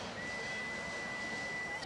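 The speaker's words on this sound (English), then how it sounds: "The Wienie whistle has blown, and it is time to meet your pole sitters." A single steady whistle sounds to start the grid walk at a wiener-dog race, one thin sustained tone held for over a second against soft background ambience, with no voices.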